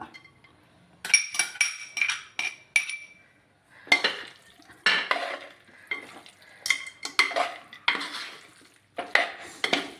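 Chicken stirred with fried coconut pieces in a pan: repeated scraping strokes and metallic clinks of a spatula against the pan in uneven bursts, with a soft sizzle underneath and brief quiet gaps between.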